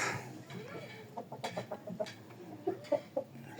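A young chick hatched in January clucking in a series of short, close, irregular clucks, fairly quiet, with a faint voice in the background.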